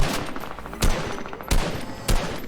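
Three loud, close gunshots in a video game, spaced roughly half a second apart, each a sharp crack with a short decay over a low background hum.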